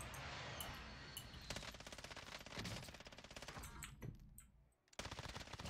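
FiNN LMG light machine gun fired in Warzone, long rapid automatic bursts with dense rattling shots, a brief pause near the end, then firing resumes; loud and close, no talk.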